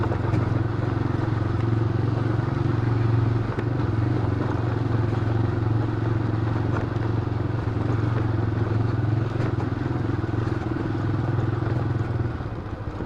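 Motorcycle ridden over a rough road: a continuous close, loud engine drone with a little rattling and clatter throughout and no break.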